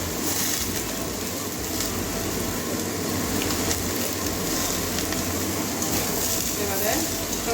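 Washed carrots and cauliflower frying in a pan with shrimp, a steady loud sizzle that continues without a break throughout.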